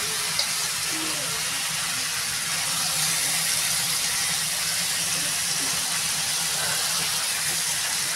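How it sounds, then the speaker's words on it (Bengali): Spice paste with onion and garlic frying in a pan for Bengali egg posto, a steady broadband hiss and sizzle that holds evenly throughout, close and fairly loud with no talking. "মশলাটা বন্ধুরা ভালো করে কষানো হবে।"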